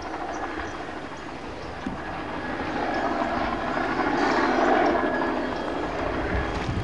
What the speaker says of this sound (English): In the background you can hear helicopters.